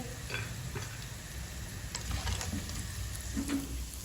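Soft sizzling and crackling of potato pakoras frying in hot oil, fairly quiet, with a few light clinks and stirring sounds.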